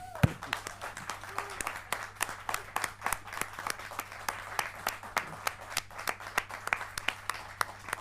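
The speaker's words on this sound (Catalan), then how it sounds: "Posem-nos dempeus, si voleu, si no, no, però aplaudiu molt fort, germanes i germans" A crowd in a metal-themed church-style show claps in scattered, uneven bursts that grow into a loose, sustained round of applause. No one talks over it.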